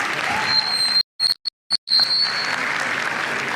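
Steady applause from a school audience for young performers, a hiss of many hands clapping, broken by a few brief dropouts in the middle before carrying on.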